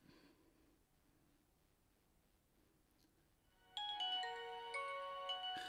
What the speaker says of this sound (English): A nice polyphonic ringtone and a Nokia handshake.